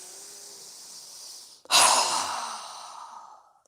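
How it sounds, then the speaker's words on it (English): A yoga breathing exercise: a quiet inhale gives way to one strong, forceful exhale through the mouth, close to the microphone and fading out slowly, with no speech. "with a strong breath through our mouth"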